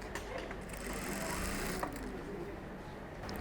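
A sewing machine stitches the hem of a fabric bag in one steady, close mechanical whir that runs without a break, with no voices over it.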